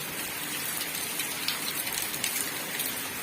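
Heavy rain falls in a dense, steady hiss, close and loud throughout, with no voices.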